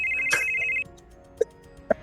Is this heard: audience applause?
no